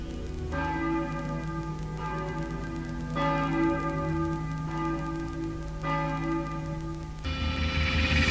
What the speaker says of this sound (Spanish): siguen doblando las campanas como antaño